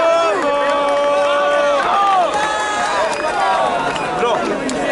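At a freestyle rap battle, a crowd roars, cheers and claps loudly. Many voices shout together in a sustained, noisy swell that stays close and full throughout.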